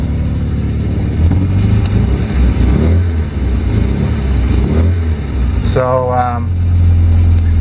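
The idling engine of a 1967 Volvo 1800S, still a little cold after start-up, gives a steady low rumble with a slight rise in revs partway through. Someone speaks briefly over it.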